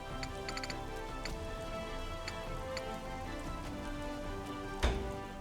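Steady rain falls in the video game Utawarerumono: Prelude to the Fallen, a soft continuous patter with scattered ticking drops over a faint musical backdrop, followed near the end by one brief sharp hit.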